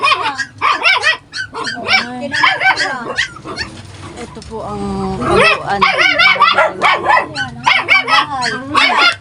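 Dogs bark and yip repeatedly up close, loud and excited, while a person speaks briefly in between.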